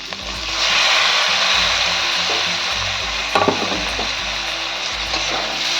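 Tomatoes and green chillies frying in spiced oil in a pan over a strong gas flame, a loud, steady sizzle with a brief stirring clatter midway and low background hum, no talking.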